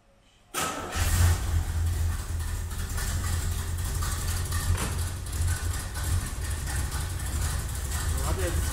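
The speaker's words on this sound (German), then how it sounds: "ich starte jetzt mal den Motor" A Corvette C2/C3 V8 cranks and fires up after a brief quiet moment, then settles into a steady, loud, close-up rumbling idle with some revving through the rest.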